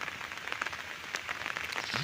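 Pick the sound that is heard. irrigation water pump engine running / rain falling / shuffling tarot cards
rain falling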